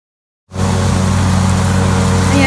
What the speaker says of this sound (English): trying this new lawn mower